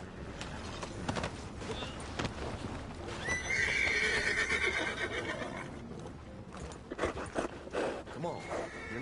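Horse galloping in the video game Red Dead Online: clip-clopping hoofbeats under a rider's voice, with a loud whinny partway through and game ambience behind.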